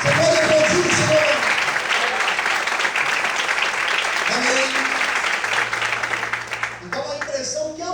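A church congregation applauds in a sustained burst of many clapping hands that fades near the end, while a preacher's amplified voice speaks over it.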